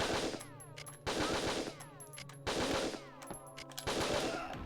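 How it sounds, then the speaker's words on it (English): Submachine gun fire in the Winback: Covert Operations video game: four rapid automatic bursts of crackling shots, each about a second long, separated by short pauses. "I'm just making life easier using the SMG"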